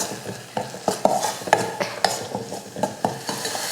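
A spoon scrapes and knocks around a pan of rasam ingredients in a steady rhythm of repeated strokes, close and clear, over a faint sizzle.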